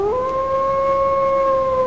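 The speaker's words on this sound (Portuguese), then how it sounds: "pode-se ouvir os lamentos do velho Rosalvo, uivando e correndo pelos pampas gaúchos em noites de lua cheia como um lobisomem" A long, steady werewolf howl rises slightly at the start and then holds a sustained tone, loud and alone with no talking.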